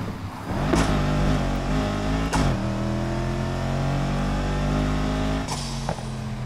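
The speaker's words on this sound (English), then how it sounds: "This sounds crazy for a stock car." A stock car engine in the video game Need for Speed Heat hums and revs continuously, rising and falling in pitch with a couple of sharp clicks, loud and close with no talking.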